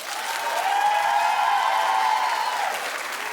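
Studio audience applauding on a daytime talk show, a dense, sustained wave of clapping and cheering that stays loud throughout, with a rising whoop in the crowd.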